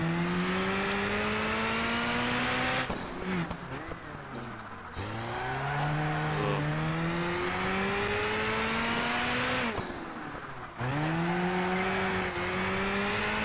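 Turbocharged Callaway C16 Speedster engine roaring in Project Gotham Racing 4, a loud continuous drone rising and falling through several gear shifts with brief dips between pulls.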